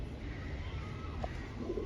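A male pigeon coos softly while drinking water, a short low call rising once over steady close background noise.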